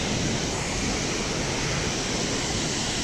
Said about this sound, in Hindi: पानी बुलंदी से गिर रहा है